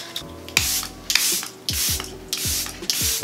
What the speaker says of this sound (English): I'm gonna use the Charlotte Tilbury Airbrush Flawless Setting Spray.